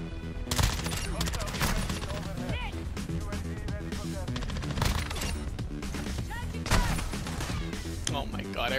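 Gunfire in Call of Duty MWII: dense, repeated shots and bursts run throughout, with a person talking over the game action.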